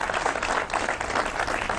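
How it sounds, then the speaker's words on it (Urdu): A television studio audience at a talk show applauds in a dense, steady wash of clapping that carries evenly through the whole stretch without a break. "ذرا تالیاں بجائیے"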